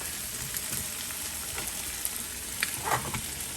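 Fresh ginger and carrots stir-frying in a pan give a steady, even sizzle, with a few faint scrapes near the end and no voices.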